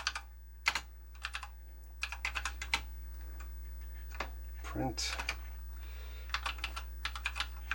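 Quick bursts of clicky keystrokes on a TRS-80 Model 1 computer keyboard, close up, with pauses between flurries and a brief spoken word partway through.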